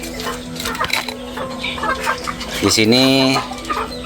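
Hens on a poultry farm cluck and cackle nearby, one drawn-out call rising clearly near the end, while someone talks over the birds.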